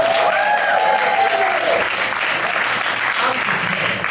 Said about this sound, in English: Clap for Corbett one more time